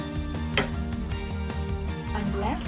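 Butter melting in the same pan used for a restaurant-style butter chicken gives off a steady, moderately loud sizzle over a constant tonal background hum, with one brighter crackle early on.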